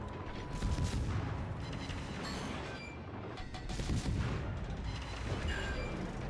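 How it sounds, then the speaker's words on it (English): Heavy guns fire armor-piercing shells in a video game: a dense, loud wall of rumbling booms and mechanical clatter that swells twice, with no talking. "Time to unload some armor piercing into his side."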